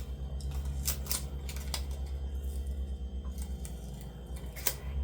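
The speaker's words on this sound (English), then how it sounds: "I think I'm going to just trim some of this off" Scissors snip through a sticker sheet in a series of quick, crisp cuts over a steady low background hum, close and fairly clear, with no one speaking.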